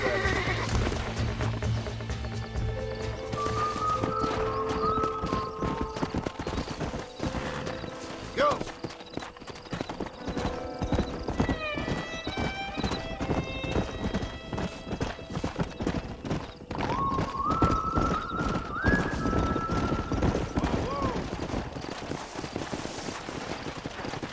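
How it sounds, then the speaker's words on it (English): Horses in the Red Dead Redemption video game clip-clop steadily throughout, with loud neighs and whinnies rising above the hoofbeats, mixed with game music and ambient sound. "We got some fine horses."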